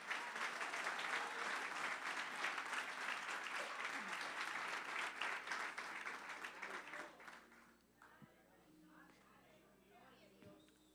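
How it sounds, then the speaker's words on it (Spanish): A church congregation breaks into loud, dense applause during a worship service, sustained for about seven seconds before fading into scattered claps and quieter room sound. "Dele un aplauso al Rey."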